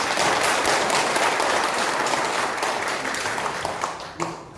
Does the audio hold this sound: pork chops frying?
no